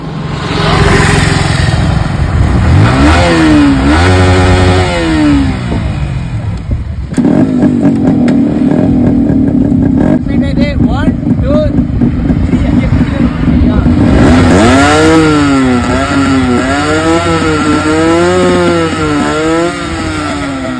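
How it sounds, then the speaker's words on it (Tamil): Two motorcycle engines, a Yamaha RX100 and a Yamaha R15 V4, rev loudly together, pitches rising and falling in repeated throttle bursts, close by, sustained throughout. "இப்போ பார்த்தீங்கன்னா ரெண்டு பைக்கையும் சேர்ந்து சவுண்ட் கொடுப்போம்"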